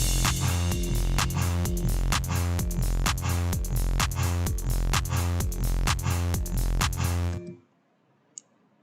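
Synthesized EDM bass line from a music production session, a loud, repetitive pulsing pattern with a steady clicking beat that runs continuously, then cuts off sharply into near silence.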